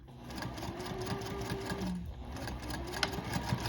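A sewing machine stitches a fabric seam with a back stitch, its motor humming in a close, steady whir that briefly shifts pitch partway through as it reverses, with no talk.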